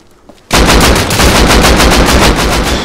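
Loud, sustained automatic gunfire from the game Rust bursts in suddenly after a short quiet moment and continues as a dense, rapid volley, close and dominant with no talking.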